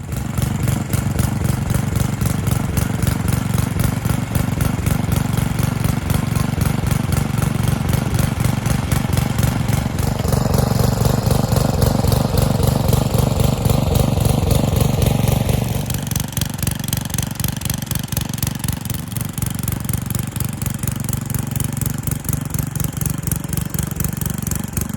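A garden tiller engine churns soil in a garden bed being prepared for potatoes, running steadily and loudly throughout with a brief heavier load in the middle, no talk over it.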